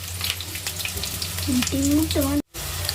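Garlic paste frying in a pan for chowmein: a steady, close sizzle throughout, with brief tonal voice-like sounds partway through and a short dropout near the end.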